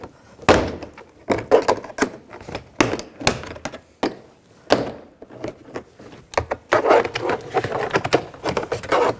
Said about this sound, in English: we're just going to pop the door panel out. It's just clips holding it in